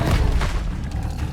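An Expelliarmus spell is cast in the Hogwarts Legacy video game: a loud, booming blast with a deep rumble that holds steady for over a second and then eases slightly.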